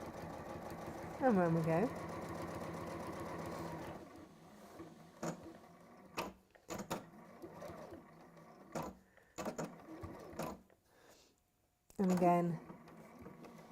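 A domestic sewing machine stitches fabric in two loud bursts, at the start and near the end, with a person talking in between and a few short mechanical clicks as the stitch is locked off and backstitched.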